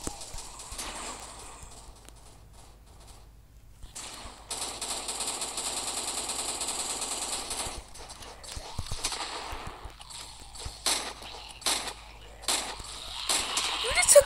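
Gunfire in a modded video game, including a sniper rifle shot: scattered sharp reports and clattering bursts, fairly quiet, mixed with intermittent mechanical noise and talk.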